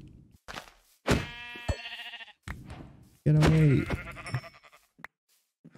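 Sheep in Minecraft bleat in short synthetic cries, one loud bleat standing out among thuds and game effects, while a voice speaks briefly nearby.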